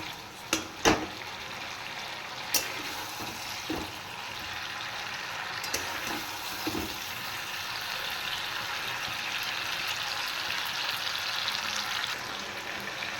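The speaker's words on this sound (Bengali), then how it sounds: "এবার আমি ভেজে রাখা মাছগুলো দিয়ে দিচ্ছি বাটা মাছ রুই মাছ সবটাই একসাথে করবো" Fried rohu and bata fish being added to a pan: a few sharp knocks at the start, then a steady, moderate sizzle of frying that carries on alone.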